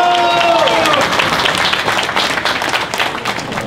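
Audience applause at a fishing competition awards ceremony honoring juniors, a steady dense clapping wash lasting throughout, loud and close, with crowd voices mixed in over the claps.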